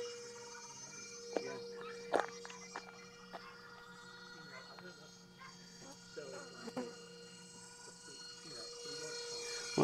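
A vintage brushed electric ducted fan model with a tail rotor runs at half throttle, giving a steady whining hum with faint tonal lines throughout, a few brief clicks and bumps, and a muffled voice in the background.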